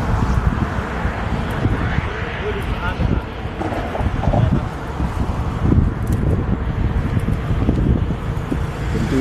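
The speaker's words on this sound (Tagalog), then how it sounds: "Ito lang yung hangin galing sa kabila." Steady wind roaring over a camera mounted on a moving motorbike, a continuous low rumbling buffet with no breaks, loud and close throughout.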